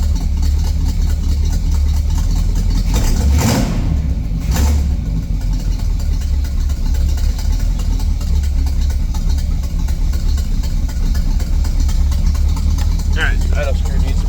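A Buick 455 V8 engine runs loudly and close up, holding a rough, rumbling idle with a couple of quick throttle blips early on that flare and drop back, steady and unbroken throughout.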